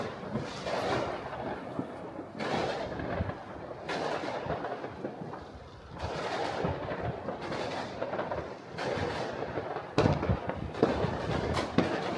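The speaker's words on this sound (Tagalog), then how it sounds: "Nagubat og fireworks." Continuous booming New Year fireworks explosions in Freiburg, Germany, rolling and crackling one after another, heavy and loud, with sharp bursts near the end.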